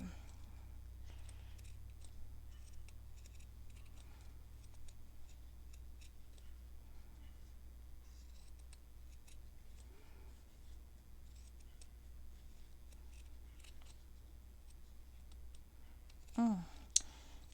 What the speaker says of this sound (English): These scissors definitely weren't made for fussy cutting.